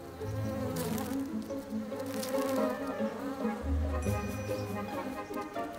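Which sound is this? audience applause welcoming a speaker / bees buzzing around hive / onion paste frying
bees buzzing around hive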